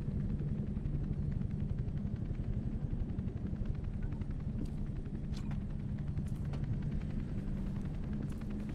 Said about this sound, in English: Another helicopter means they're waiting out there for me.